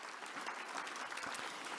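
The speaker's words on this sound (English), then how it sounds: "Let's give him a big round of applause." An audience at a cultural diversity awards ceremony claps for a musician in a brief, even burst of applause that sounds fairly distant.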